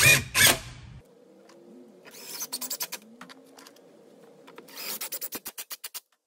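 A nut and washer being tightened on an outboard motor control mount, with short bursts of rapid ratcheting clicks separated by quiet stretches, close and fairly loud, with no talking.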